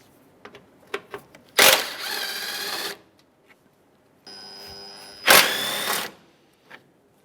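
A power ratchet or impact tool whirs twice in bursts, removing 10mm bolts from the bumper and grille top panel of a 2007-2013 Acura MDX, with light clicks and handling noises between, close up.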